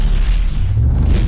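An EMP blast from the Batman Telltale game: a short, heavy low boom with a dense rushing wash on top, loud and steady throughout with no voices.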